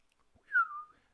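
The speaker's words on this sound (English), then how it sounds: "I don't know why I whistled, but I did." A person whistles one short, clear note that starts high and slides down slightly before fading, heard alone in near silence.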